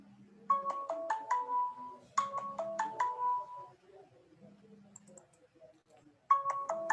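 A phone ringtone plays for an incoming call, a loud repeating electronic melody of quick stepped tones that sounds in two bursts, pauses, then starts again, with quiet background noise between.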